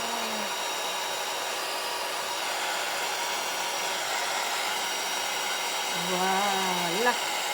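An embossing heat gun blows in a steady, close whirring roar like a hair dryer, continuous throughout, while a voice talks briefly over it near the end.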